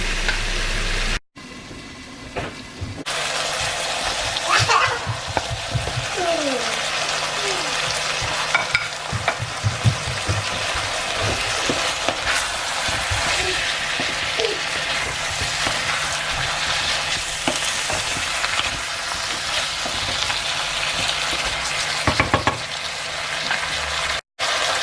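Pork belly pochero with spices frying in a pan while being stirred, a continuous close sizzle with scraping stirring strokes, no talking.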